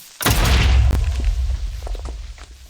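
A Minecraft explosion, likely a creeper blast, bursts loudly and close with a deep boom, rumbles for about a second, then fades into a lingering low roar as faint game sounds carry on.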